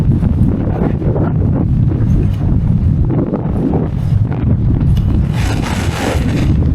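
Wind blowing hard across the Mount Baldy summit in Los Angeles County, a loud continuous rumble and buffeting against the microphone with gusty surges.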